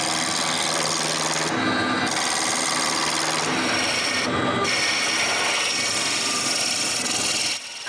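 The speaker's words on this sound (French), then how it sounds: "Quand c'est fait, je peux tourner ma deuxième boule." Wood being turned on a lathe to shape a wooden Christmas ball, a steady broadband scraping and whirring that runs continuously and loudly with brief changes in tone as the tool cuts, no voices.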